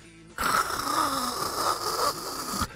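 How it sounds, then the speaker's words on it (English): Steady white noise machine hissing in a baby's room, a continuous broadband whoosh that starts abruptly and holds at an even level, close and fairly loud. "It's a white noise machine"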